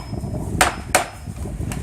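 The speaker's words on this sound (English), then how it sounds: "And you tap on it to make sure that the concrete slips off of" Two sharp knocks on a wooden concrete form, loud and close, spaced about a third of a second apart, followed by a fainter third tap, over a low background.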